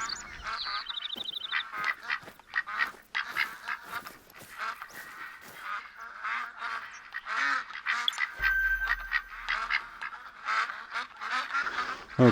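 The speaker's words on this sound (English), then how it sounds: "Okay, ducks." Ducks quack in the hunting video game Hunter Call of the Wild, a steady chorus of repeated quacks and honks across an outdoor soundscape with faint game sounds.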